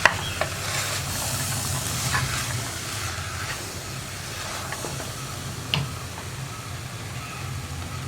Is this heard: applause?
no